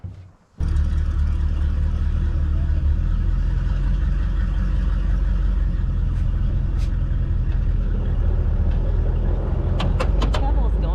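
A Toyota FJ40 driving with its top off, a loud continuous engine rumble and road noise that starts abruptly and holds steady, with faint clicks near the end.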